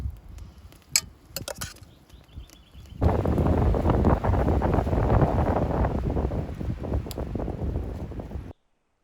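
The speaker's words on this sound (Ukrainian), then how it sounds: "але дуже вітряно" Light rustling and clicks give way to a loud, continuous roar of mountain wind buffeting the microphone on a hike in the Gorgany range, Ukrainian Carpathians, which cuts off abruptly at the end.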